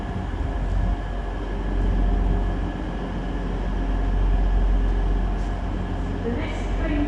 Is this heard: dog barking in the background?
no